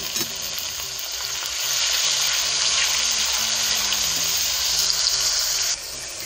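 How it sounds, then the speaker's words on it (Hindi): Water poured into hot frying masala for an amla stew, the sizzle surging into a loud, steady hiss that holds for several seconds and then cuts off abruptly near the end. "थोड़ा सा पानी डाल लूँगी ताकि मसाले को अच्छी तरह से भुना जा सके।"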